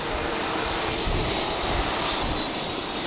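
At Brisbane Airport on a windy day, an airliner takes off with a loud, steady engine roar that fills the whole stretch without fading and with no voices.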